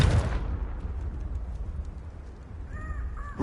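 A Confringo spell explosion in the video game Hogwarts Legacy opens with a brief blast, then fades into a low, muffled rumble with a few faint tonal chirps near the end.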